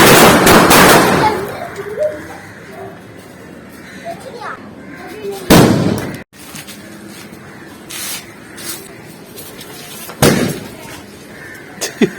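Sharp Diwali firecracker bangs burst out at intervals, one at the start and two more later, loud and close against background chatter and outdoor noise.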